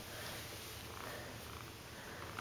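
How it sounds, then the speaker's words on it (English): A cat named Opie, just woken from an afternoon nap, purrs steadily and softly at close range, a continuous low rumble with no talking over it. "Listen to him purr."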